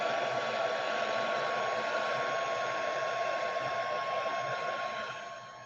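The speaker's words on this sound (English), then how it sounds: "I love the dryer." A hair dryer runs continuously at close range to dry a craft project, a steady loud whooshing blow with a motor whine that eases off at the very end.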